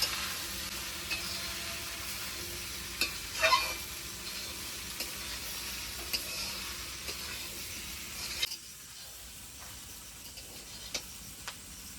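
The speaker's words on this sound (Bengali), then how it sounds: "এবার ভালো করে নেড়ে চেড়ে ভেজে নেব।" Washed flattened rice (chira) is stirred and fried in a pan for chira pulao, giving a soft continuous sizzle with scattered scraping clicks from the spatula and a quieter tail near the end.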